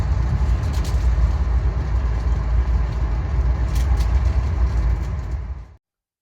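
A passenger train rolls steadily through countryside on the way to Toronto, giving a continuous broadband rumble with faint rattles and occasional higher hisses, ending abruptly.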